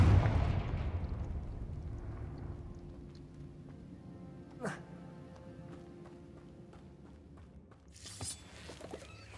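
A Confringo fire spell cast in the video game Hogwarts Legacy: a loud explosive burst at the start that decays into a rumbling tail, followed by a sharp whoosh and a later crackling blast.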